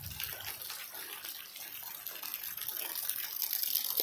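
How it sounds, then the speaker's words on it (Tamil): Rainwater flows through a residential street in a steady rushing, splashing stream that builds slightly toward the end, with no voices. "குடியிருப்பு பகுதியில் மழைநீர் தண்ணி இந்த மாதிரி ஓடிட்டுருக்கு"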